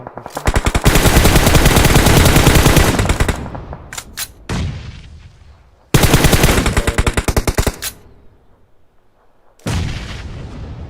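Loud, rapid automatic gunfire from PUBG Mobile comes in long sustained bursts with short gaps, a few isolated single shots, then another extended volley and a final burst, close and dominant throughout.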